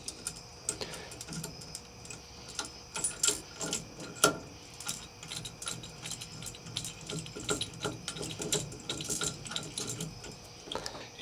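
A hand ratchet cranks lag bolts down during turn signal switch work on a 1960-66 Chevy C10 truck, giving close, steady runs of dense clicking with brief pauses, heard alone.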